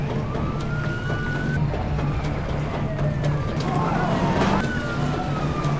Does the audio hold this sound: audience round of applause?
no